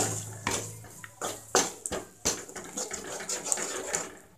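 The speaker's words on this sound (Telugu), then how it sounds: "ఇప్పుడు మనం ఇందులో ఎగ్స్ యాడ్ చేద్దాం. ఎగ్స్ మనం కలుపుతూనే ఉండాలి." Eggs are stirred into cooked tomato in a pan, giving a run of close scraping and clinking utensil strokes over a soft sizzle, with irregular metallic taps throughout.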